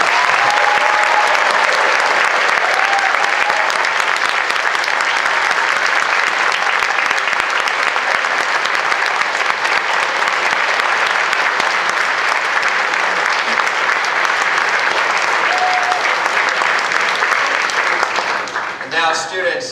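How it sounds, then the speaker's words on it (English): A large audience at an 8th grade promotion ceremony claps loudly and steadily for about eighteen seconds, a dense wall of applause that thins and fades just before the end. "I would invite you to give a sincere round of applause to your parents"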